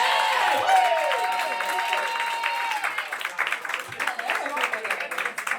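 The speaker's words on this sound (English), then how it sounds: "Keep that clap going" Steady applause from a comedy club audience, dense clapping that thins into scattered claps near the end, with a voice over it.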